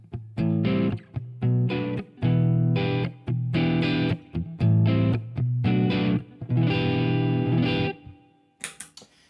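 Overdriven electric guitar on the neck pickup through an OCD overdrive pedal into a Line 6 HD500X, playing loud, gritty strummed chords in rhythmic bursts with short gaps, close and alone, ending with a couple of scratchy string noises.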